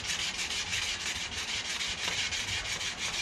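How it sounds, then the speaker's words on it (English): Fine sandpaper wrapped around an arrow shaft and rubbed along it while refletching, giving a steady, close, continuous hissing scrape with even back-and-forth rhythm and no talk. "Some sandpaper. Just wrap it around. Real fine sandpaper."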